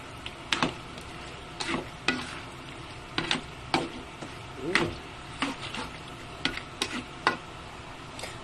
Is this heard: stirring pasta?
yes